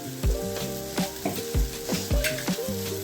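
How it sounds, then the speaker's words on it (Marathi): Onion and tomato with turmeric and red chilli powder frying in a kadai while cooking apta flower bhaji, a loud steady sizzle broken by repeated scraping stirs of a spoon against the pan. "आता चांगलं परतून घ्या गोल्डन फ्राय होईपर्यंत."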